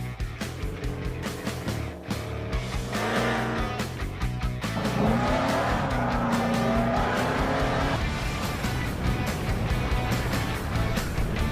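A supercharged 5.0 V8 in a Roush F150 with a Phase 2 supercharger kit and Roush exhaust system roars loudly and continuously at a Las Vegas SEMA show, with tire squeal and rising revs throughout and no talking.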